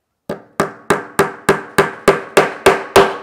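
Hammer driving a nail into a wooden lap desk: ten sharp, evenly spaced blows about a third of a second apart, close and loud, each with a short ringing decay.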